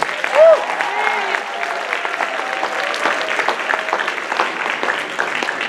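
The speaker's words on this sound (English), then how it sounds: "So let's give these participants a huge round of applause." An audience at a university student cultural show applauds the participants, with bright, close clapping plus a few whoops and cheers layered over it.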